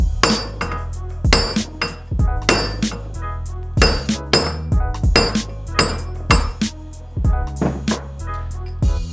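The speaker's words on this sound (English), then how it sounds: "just get the biggest hammer you've got, a big lump hammer's fine, and just hit it that way" A big lump hammer strikes a wheel nut to knock a bent or broken stud out of the hub, about a dozen loud metallic clangs in an uneven rhythm, each ringing briefly.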